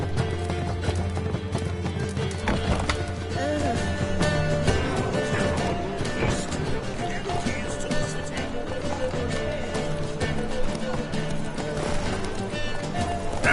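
Roach the horse from The Witcher 3 gallops with constant, dense hoof clip-clop over a busy game soundscape, with a brief whinny along the way.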